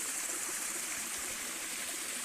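A small woodland stream flows steadily over stones, a soft, even wash of water with no other sounds.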